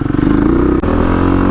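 A Stage 3 Kawasaki KLX351 dirt bike runs on off-road OHV trails, its engine droning loud and steady close by, with a brief dip in the middle before the rumble picks straight back up.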